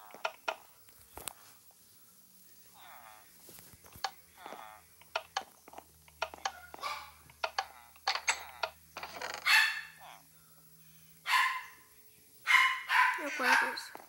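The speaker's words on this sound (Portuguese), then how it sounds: "Será que algum aluno trouxe cachorro pra essa escola?" A dog barks repeatedly at a school, a mix of short close barks and yips that grow louder and more frequent toward the end, with a voice talking in between.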